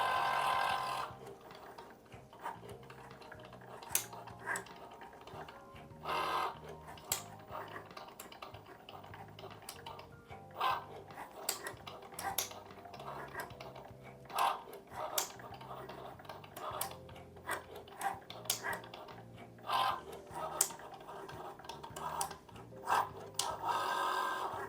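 Cricut Joy Xtra cutting machine working through a felt sheet, a soft whirring carriage with repeated scratchy ticks and rubbing bursts, quiet and close, running in uneven pulses for a long stretch with no one talking.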